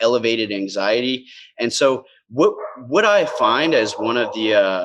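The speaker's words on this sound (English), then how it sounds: "sorry about the dogs barking in the background, by the way." Dogs bark in the background at a home in Jamaica, sharp yips breaking in now and then beneath a man's steady, close talking.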